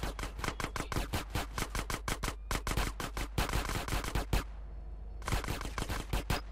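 Rapid video-game gunfire from a gang fight in GTA San Andreas, loud dense bursts of shots firing almost without pause, broken by one brief lull.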